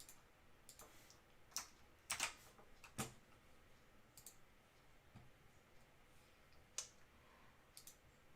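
Sparse, quiet keyboard clicks tapping out at an irregular pace, a few sharper keystrokes standing out against a faint background hiss.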